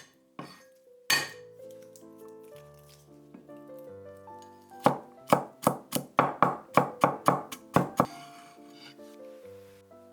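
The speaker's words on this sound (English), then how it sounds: "Chop 3 garlic cloves." A knife chops garlic cloves on a cutting board, starting with a few scattered taps and then settling into a run of about ten sharp, evenly spaced chops that land close and loud, with light clinks from kitchen utensils.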